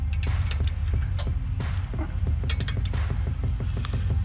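A series of sharp creaks and metallic clicks over a steady low mechanical rumble as a seized Brembo brake caliper bolt on a Subaru WRX STI breaks free, with several louder cracking pops scattered throughout.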